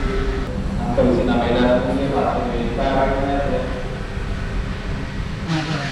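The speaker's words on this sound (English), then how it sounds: "Finally, my train arrives." Local train pulling into a station on the line toward Wellawatte near Colombo, Sri Lanka, with a low rolling rumble and faint squealing tones building and fading, while people talk nearby on the platform.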